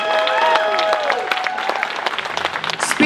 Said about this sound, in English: Can we have a round of applause for everybody who came up today to speak